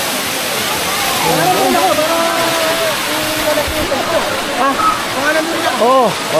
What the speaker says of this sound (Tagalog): Pre, yan pala yung falls